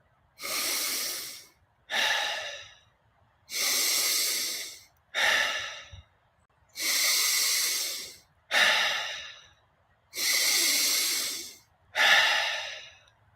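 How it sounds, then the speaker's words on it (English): Deep breaths during a breathwork session come in a steady rhythm of eight long, close airy inhales and exhales, each a breathy whoosh separated by short silences, with no talking. "Breathing in and letting it go."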